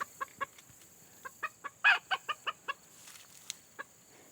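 A very white, long-legged chicken clucks in a quick series of short, fairly close calls, with a louder squawk in the middle and a few sparse clucks after a brief pause.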